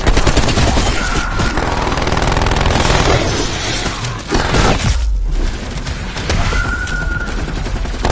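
Rapid turret gunfire in Black Ops Cold War Zombies on Nuketown, a loud dense fusillade of shots with crashing impacts and a brief lull before firing resumes.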